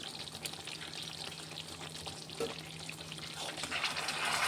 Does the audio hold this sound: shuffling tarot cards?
no